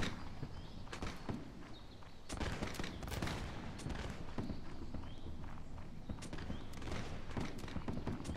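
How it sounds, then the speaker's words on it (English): Cavalry horses gallop across a Napoleonic-era battlefield in Mount&Blade, their hooves a dense, continuous drumming mixed with scattered sharp gunshots and battle din, loud and busy throughout. "there's some cavalry incoming by the looks of it"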